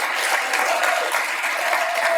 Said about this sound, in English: how about a round of applause for Lauren Papps, who did a wonderful job.